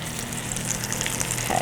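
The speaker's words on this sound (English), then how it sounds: "I love hearing that sizzle" Salmon fillet laid flesh side down in a hot buttered pan, giving a steady close frying sizzle with soft crackles that holds evenly for a couple of seconds.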